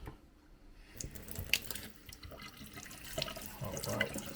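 A rusty part from a vintage coffee grinder rinsed under a running tap, with a steady splash of water into a sink and occasional clinks of metal, close and fairly quiet.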